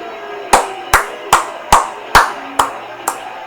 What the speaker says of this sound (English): I have to clap.